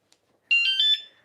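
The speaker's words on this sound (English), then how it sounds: "after you arm it, it'll beep, and that's when it's armed" A short electronic beep-chirp from a Lectric e-bike alarm arming by remote, a bright high tone pulsing about four times in quick succession, close and clear, following a faint click.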